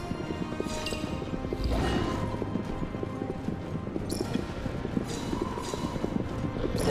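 A horse gallops in a video game with a rapid, continuous clip-clop of hooves at moderate volume, steady and unbroken throughout, with no talking over it.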